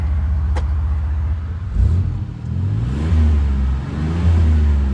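A Chevy K1500 pickup engine revving in neutral, idling loudly up close and then rising in two or three throttle blips that swell and fall back.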